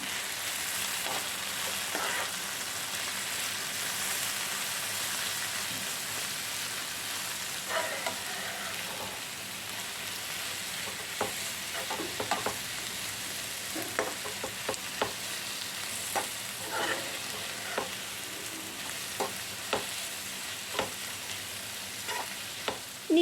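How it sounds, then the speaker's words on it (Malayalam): Ivy gourd (kovakka) with turmeric and curry leaves fries over a low flame in a pan, giving a steady soft sizzle with occasional scraping stirs throughout, no talk. "ലോ ഫ്ലെയിമിൽ നന്നായിട്ട് മൊരിയുന്നത് വരെ നമുക്കൊന്ന് വെയിറ്റ് ചെയ്യാം ഇടയ്ക്കിടയ്ക്ക് ഒന്ന് ഇളക്കി കൊടുക്കാം"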